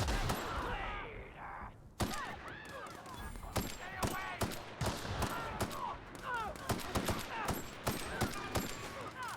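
Rapid bursts of gunfire from The Outer Worlds video game, loud repeated shots in quick volleys with some automatic fire, and a voice talking briefly near the start.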